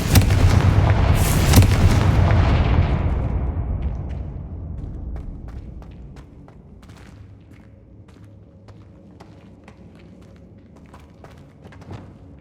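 A Confringo fire spell explodes in Hogwarts Legacy with a big booming blast that rolls away over several seconds. Sparse small clicks and light impacts follow in the quiet.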